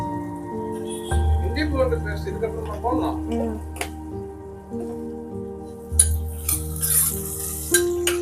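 Onions sautéing with salt in a pan for Arcot seeraga samba mutton biryani, a soft continuous sizzle with occasional stirring scrapes under a steady low hum.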